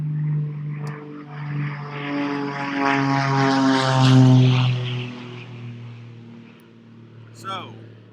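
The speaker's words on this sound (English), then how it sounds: "And there's another plane." A propeller plane passes overhead, its droning engine swelling to a peak near the middle and fading away, heard loud and steady for several seconds with a brief faint sound near the end.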